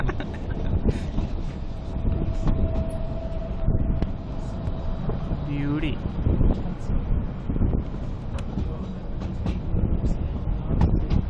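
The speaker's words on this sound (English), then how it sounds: "This is not a cable car, this is a train." A Swiss mountain train rumbles along with a low, steady roar and wind buffeting the microphone. A brief whistle-like tone rises midway, and a voice speaks once.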